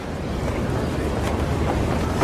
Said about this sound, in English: We're almost 800 feet in the air, and you can see it's too windy.